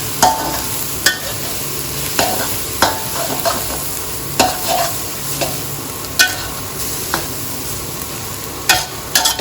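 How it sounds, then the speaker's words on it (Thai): Continuous sizzling in a hot wok as glass noodles are stir-fried, with regular scraping and tossing strokes of a utensil, loud and close, with no talking. "แล้วก็ผัดทุกอย่างให้เข้ากัน"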